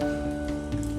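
Chopped garlic dropped into hot oil for restaurant-style chilli potato, giving a steady, close, loud crackling sizzle with dense popping that continues without letup.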